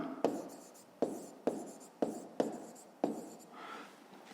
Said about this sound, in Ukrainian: Пишемо цифру.